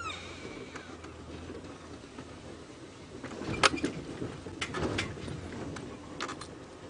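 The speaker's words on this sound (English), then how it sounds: "Why is that bird shouting?" A bird calls loudly during an early-morning safari drive, a few sharp cries rising over the low rumble of the vehicle and ambient bush noise.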